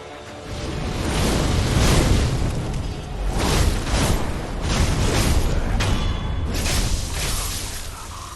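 Sekiro game combat with the Shadowfall combat art and Flame Vent: a loud, sustained explosive roar with fiery bursts and swooshes that swells and recedes over several seconds, with no talking.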